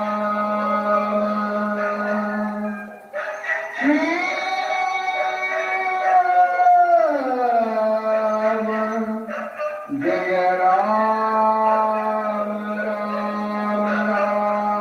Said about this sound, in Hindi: आवाज इतनी तेज है कि कुत्ते भी भौंकने शुरू हो गए।